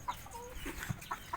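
Laying hens cluck nearby while feeding eagerly, a few short, quick clucks scattered over a low background rustle, fairly faint.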